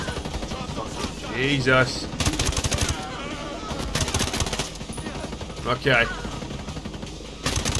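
Rapid automatic gunfire from a Ghost Recon Breakpoint firefight, loud and near, with sustained bursts and clustered shots running through most of the stretch, while someone talks over it in short exclamations.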